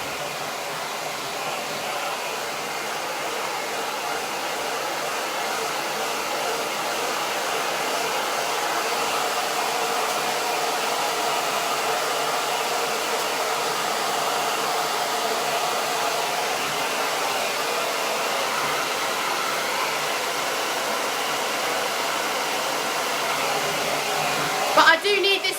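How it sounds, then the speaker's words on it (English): A hair dryer blows steadily for the whole stretch, a constant loud whooshing hum with no pauses, ending in a brief clunk. "So, apologies for having a hairdryer on."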